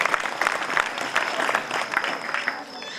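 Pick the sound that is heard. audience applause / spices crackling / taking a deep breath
audience applause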